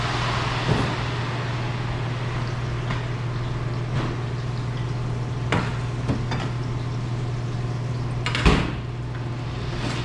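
An oven door swings open with a dull clunk near the end to pull out baked eggplant involtini, over a steady kitchen hum with a few faint clicks and knocks.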